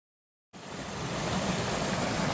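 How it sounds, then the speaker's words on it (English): Kennedy Creek rushing along a hiking trail, a steady broadband roar of fast-flowing water that swells in abruptly after a brief silence and holds constant and fairly close. "I'm coming up on what I've been dreading. You can probably hear it. It's Kennedy Creek."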